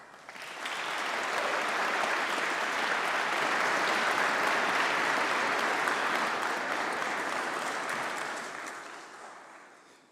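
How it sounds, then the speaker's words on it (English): Graduates at a summer congregation ceremony applaud their supporters, a broad, even wave of clapping that swells in quickly, holds steady, and fades out near the end, with no talk over it. "let's give a round of applause to say thank you to all of your supporters who've made today possible"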